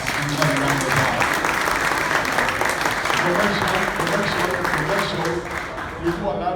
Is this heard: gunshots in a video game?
no